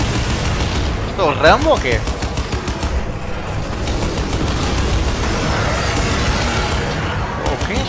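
Rapid bursts of automatic gunfire in the video game Crysis 2 rattle continuously, with a voice speaking briefly over the shooting.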